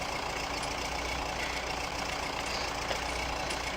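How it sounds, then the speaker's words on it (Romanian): A tractor engine idles as it warms up in a multiplayer farming video game, giving a steady, even drone with no breaks and no speech. "ca să aștept să încălzească puțin motorul"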